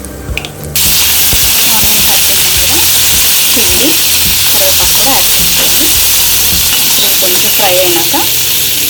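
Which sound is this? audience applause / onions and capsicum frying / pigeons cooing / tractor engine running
onions and capsicum frying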